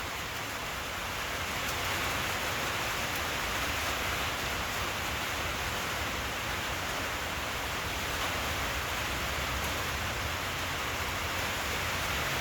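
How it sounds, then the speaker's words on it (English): Steady rain falls outdoors as a constant, even hiss of drops, moderately loud and unbroken throughout with no voices. "the rain's getting worse"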